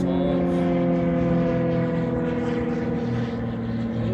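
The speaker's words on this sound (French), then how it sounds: "On a un avion qui nous survole" An airplane passing overhead near the airport in Lille, a steady, fairly loud droning hum with layered engine tones that holds throughout and fades slightly near the end.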